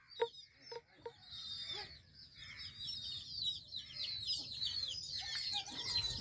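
Hens and roosters on a small poultry farm cluck and chatter in a continuous overlapping chorus. A few sharper knocks sound near the start, and the flock stays moderately faint with no talking.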